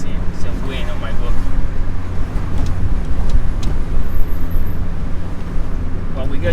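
A Nissan B13 Sentra with a turbocharged 1.6 engine driving with the throttle closed, a steady low drone and rumble of engine and road noise inside the car, loud and continuous with a voice talking over it.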